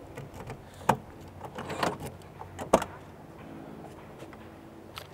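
1987 BMW E28 528e being opened up: a few faint clicks, a latch clunk and a couple of sharper knocks of door or lid handling, quiet and close with no talking.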